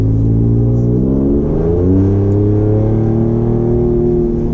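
A loud, deep engine rumble from a 2018 Ford Raptor pickup with a Borla ATAK aftermarket exhaust pulling away, the pitch rising and shifting as it accelerates, heard close up.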